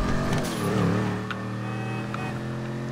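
A tuned car engine with a supercharger, revving in the video game GTA V Online, a steady, loud motor drone with a brief rise and fall in pitch near the start, then a level hum.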